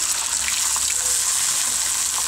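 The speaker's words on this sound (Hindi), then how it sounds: "अब हम इसमें पानी ऐड कर देंगे, पानी इतना डाल दें कि लहसुन के जो जवे हैं वो अच्छे से गल जाएं।" Water pours steadily into a cooking pan holding garlic cloves for a garlic curry, a continuous close gushing wash with no talk over it.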